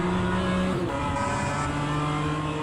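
A BMW M2 CS engine in a racing sim video game rasps loudly and continuously, its pitch shifting as the revs change through gears, with no talking.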